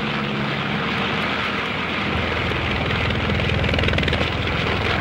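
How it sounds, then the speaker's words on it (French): A four-engine seaplane on Lake Geneva roars at full throttle: a loud, steady, dense engine and propeller drone that holds throughout, with the pulsing beat growing stronger toward the end. "Le pilote tire sur les manettes des gaz, fait gronder les 4 moteurs de toute leur puissance."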